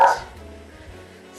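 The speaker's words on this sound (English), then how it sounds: "sorry about my dog, that's Teddy, he's having a little bark." A dog gives one short, close bark at the start, followed by quiet room noise with no talk.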